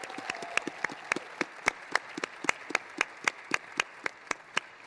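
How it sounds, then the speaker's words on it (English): Applause from a small audience at an NSCS honor society induction ceremony, a sparse, steady run of distinct hand claps that sounds like only a few people clapping, moderately near and fairly quiet. "let's also have one big round of applause for our inductees"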